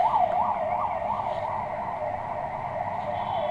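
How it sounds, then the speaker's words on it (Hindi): An ambulance siren wails loudly and steadily close by, its tone rising and falling in a continuous pattern with no pause. "ठीक है, एम्बुलेंस भी गई।"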